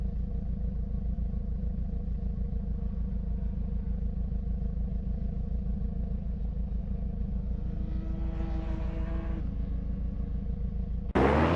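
A Ferrari 488 GT3 race car on a street circuit in Detroit, its engine a steady, loud rumbling drone held for about eleven seconds before a sudden louder burst at the end.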